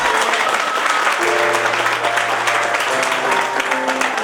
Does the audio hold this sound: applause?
yes